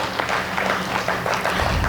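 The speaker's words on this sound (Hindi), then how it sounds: "जरा तालियों से मेरे साथ झूमिए" Audience clapping along at a Hindi poetry recital, a brief, steady wash of crowd applause heard from a distance, moderately loud and unbroken.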